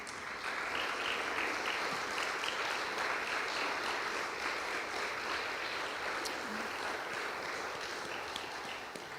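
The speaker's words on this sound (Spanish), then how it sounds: "Dale un aplauso" A church congregation applauds after a closing prayer, producing a continuous, full wash of clapping that stays loud and even for around nine seconds.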